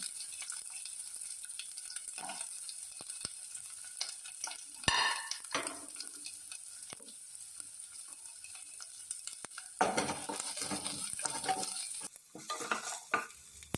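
Onion sizzles and fries in a pan for brinjal soup, a steady hiss broken by a spoon stirring and scraping, with a clack of utensil on the pan midway.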